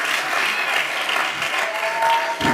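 An audience applauds a speaker at a JLD Institute event, with dense, lively clapping from many hands that holds steady at close range and briefly swells near the end.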